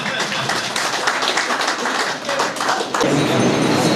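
A crowd at a cricket tournament gathering claps loudly in a dense, rapid patter, with the noise shifting partway through as the applause swells and people talk underneath.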